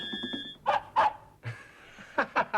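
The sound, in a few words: dog barking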